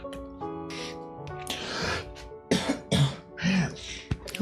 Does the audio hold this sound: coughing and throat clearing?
yes